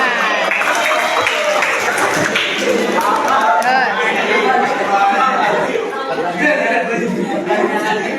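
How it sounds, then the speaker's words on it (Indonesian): Classmates in a classroom applaud a group presentation. The clapping stays dense and loud and is mixed with constant chatter and talking voices. "Ya, tepuk tangan."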